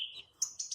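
Birds at a campsite on a crisp morning give short, high chirps and tweets in quick bursts, clear and fairly close, with no talk over them.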